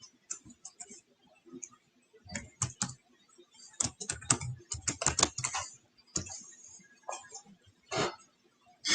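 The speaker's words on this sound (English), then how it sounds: "Let me type it here." Someone typing on a computer keyboard in a quiet room, with faint irregular bursts of clicking keys and short pauses between them.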